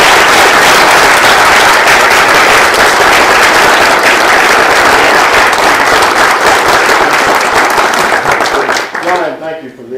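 Loud, sustained applause from a large audience at a city council meeting, dense clapping filling the space for several seconds before tapering off near the end.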